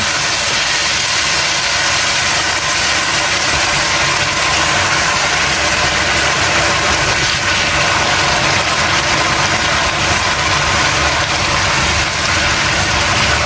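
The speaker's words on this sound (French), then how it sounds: "Et là, on verse notre vin blanc." White wine poured into hot, toasting risotto rice in a pan over medium-high heat, giving a loud, continuous hiss and sizzle that holds steady throughout with no voice over it.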